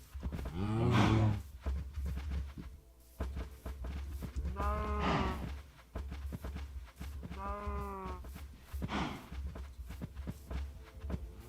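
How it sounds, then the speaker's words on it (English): Several drawn-out cow moos from Minecraft, one louder and nearer near the start and two more spaced apart later, over a steady low game ambience with no talking. "Cows, hello."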